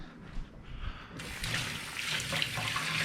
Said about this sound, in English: now let's wash our hands